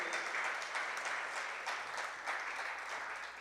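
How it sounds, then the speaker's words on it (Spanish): A church congregation claps together in sustained, even applause, a dense wash of many hands heard from a moderate distance, with no talk over it. "Aplauda al Señor"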